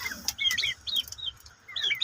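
Desi native chickens give short clucks and chirpy calls in several quick bursts, close by and fairly clear with no talk.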